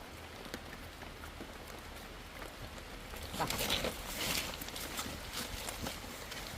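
Steady outdoor rain patters continuously on surfaces, a dense wash of drops that swells somewhat louder midway through, with no talking.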